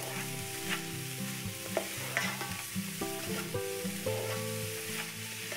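Keto cauliflower fried rice stirred in a pan over raised heat, a quiet crackling sizzle with intermittent spatula scrapes, close and low in level, no voices.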